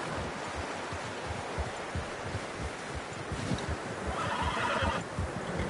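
A horse in the video game Red Dead Redemption 2 whinnies over steady clip-clopping hooves and rustling outdoor ambience, the hoofbeats rhythmic and close throughout.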